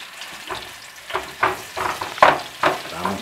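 Garlic sautéing in hot cooking oil for a Filipino beef and green bean stir-fry, a steady close sizzle broken by repeated louder scraping stir strokes about every half second.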